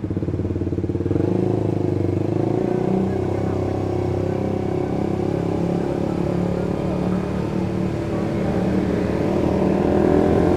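An R6 racing-model motorcycle passes at a busy Sunday morning group ride, its engine drone and rumble steady and fairly close, with a low clattering undertone throughout.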